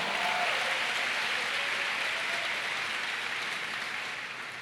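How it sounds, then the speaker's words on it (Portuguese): Congregation in a church applauding loudly, a dense steady wash of clapping with no voices, slowly thinning toward the end. "Você pode agora aplaudir forte a Ele?"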